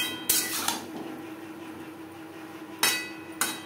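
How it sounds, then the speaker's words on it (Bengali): Eggplant frying with spices in a pan on medium flame for a fish egg curry, with a few sharp clanks of a utensil against the pan and quieter stirring between them. "মশলার সাথে বেগুন ভাজবো"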